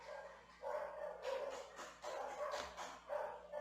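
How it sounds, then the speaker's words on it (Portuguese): Several dogs bark in bursts from a short distance, the yaps rising and falling in an uneven rhythm with brief lulls between them, no talk over them. "É muito provável que vocês ouçam bastante cachorros latindo agora."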